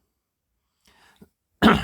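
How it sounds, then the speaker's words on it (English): A single loud, harsh cough bursts out after a stretch of near silence, preceded by a faint rustle and a small click. "I've got a bit of a cough"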